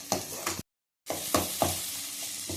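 Tomatoes soften in a pan on the stove while cooking a chicken curry, sizzling steadily with a few stirring scrapes and a brief full silence partway through, no voices.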